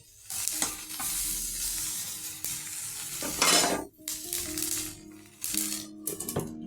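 Drumstick pieces sizzle and crackle steadily in a hot pan, with occasional stirring scrapes and clatter of a utensil against the pan.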